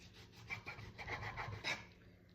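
A knife saws back and forth through raw bacon strips for a Zuppa Toscana soup, giving a close run of quick rasping strokes, about eight in two seconds, with no talk.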